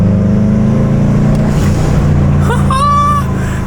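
A Subaru Forester GT with a new exhaust idles with a deep, steady exhaust rumble, loud and close, with a person speaking briefly near the end.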